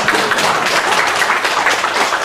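Church congregation at a Friday prayer meeting clapping together, a steady, loud wash of many hands applauding without a break.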